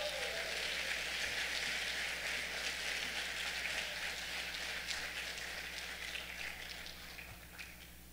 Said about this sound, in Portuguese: Pode aplaudir, pode aplaudir.